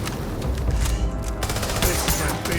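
Rapid, loud, continuous bursts of energy weapon fire sound in the video game Starfield, up close, with no talk over them.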